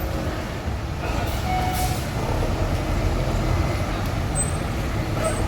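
A Harapan Jaya bus reverses, its engine giving a steady, loud low rumble with faint hissing and a few high tonal chirps over the top, continuous throughout.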